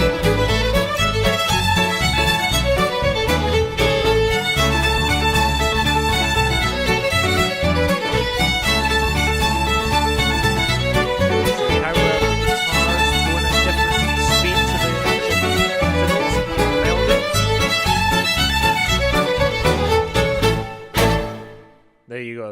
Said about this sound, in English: A cross rhythm is the effect produced when two conflicting rhythms are played at the same time.